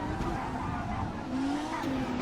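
Race car in a racing video game braking hard and skidding, tires squealing briefly over a steady engine drone, with faint commentary underneath.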